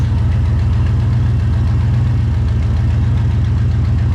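A truck engine fitted with Holley Sniper EFI runs loud and close with a steady, even idle-like rumble throughout, with no clear revving swells.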